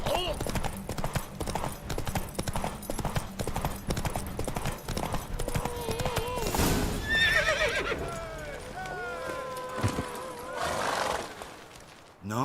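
Galloping horse hooves and loud neighing during a horse race in the video game The Witcher 3, rapid clip-clop under whinnies and game voices, fairly close and loud.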